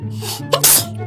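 A cartoon child sneezes once, a loud, close burst with a quick intake and sharp blast, alone with no talking.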